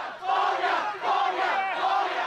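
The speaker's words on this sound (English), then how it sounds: "Shouts of "release them" were heard from the crowds." A late-night protest crowd in Mong Kok chants a demand in unison, three loud rhythmic waves of massed shouting close by, each swelling and fading in turn.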